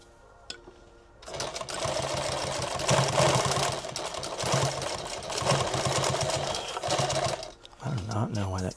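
A sewing machine stitches fabric for a tactical rig, starting after a brief quiet moment and then running in a loud, steady mechanical whir with short pauses and speed changes, ending in a burst of movement.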